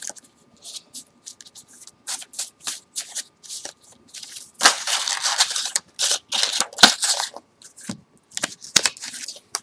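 Tarot cards shuffled close up during a love reading, a run of crisp riffling and flicking bursts with brief gaps, growing busier toward the middle.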